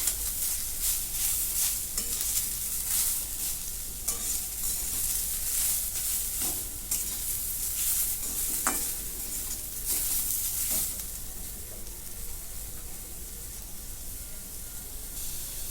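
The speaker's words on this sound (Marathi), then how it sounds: "कोथिंबीर पण याच्या बरोबर परतून घेते" Masala and coriander sizzle and crackle in a hot pan as they are stirred, with scraping strokes and a steady frying hiss.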